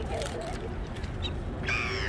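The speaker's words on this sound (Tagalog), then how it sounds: "daming na ibon eh" Crows caw loudly near the Tower of London by the Thames, with several harsh calls overlapping against steady outdoor city noise and wind.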